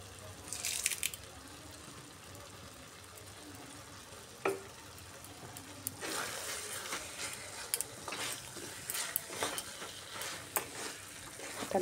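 Chicken with coriander stems sizzles softly in a frying pan for a dry chicken dish while a utensil stirs and scrapes it in repeated bursts, close and fairly quiet.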